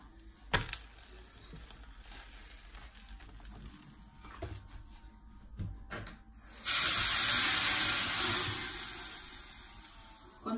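Water is poured into a very hot frying pan while making baghrir-style thousand-hole crepes, bursting into a loud, sustained sizzling hiss that starts abruptly after quieter kitchen clatter and slowly fades.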